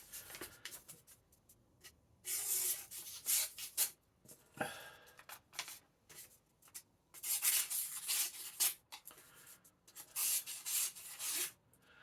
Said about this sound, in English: all I do is the slightest and slowest from top to bottom, as light as I can, and that should hopefully make this a nice little sharp edge